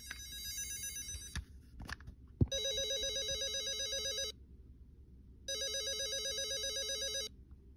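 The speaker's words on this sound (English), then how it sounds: "A little cellular phone. Here. I'll press this one." A 1999 McDonald's Food Fooler fry box toy cellular phone gives a click, then two electronic ringing bursts about two seconds long, separated by a short silence, close and fairly loud.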